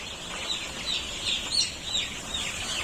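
Young poultry chicks at red turbo feeders on the third day of a farm brood, a dense, continuous chorus of high chirps and soft clucks from many birds at once, steady and fairly close with no talk.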